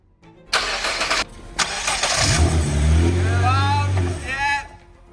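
A Nissan GTR engine cranks and catches, then settles into a loud, rumbling idle with a slight rev, close by in a garage while people talk over it during a search for an oil leak.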